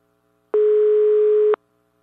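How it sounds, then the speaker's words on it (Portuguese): A single telephone ringing tone, a steady one-second electronic beep that starts and stops cleanly, loud and alone against near silence. "Pode estar chamando aí."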